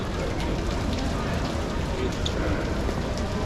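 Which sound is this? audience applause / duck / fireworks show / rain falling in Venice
rain falling in Venice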